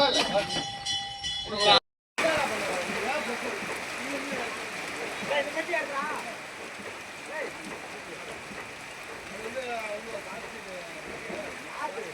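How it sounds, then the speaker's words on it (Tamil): Steady rain falling outdoors gives a continuous broadband hiss. It stops for a moment near the start and then keeps going evenly, with faint voices and background activity mixed in. "மழை பெய்யுதான்"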